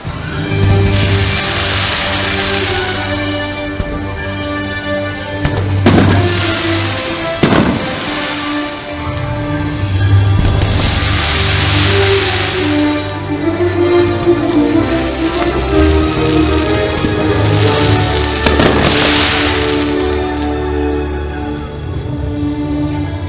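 Fireworks burst during an evening show at Epcot's World Showcase, sharp booms recurring every few seconds over a continuous loud crowd and music wash.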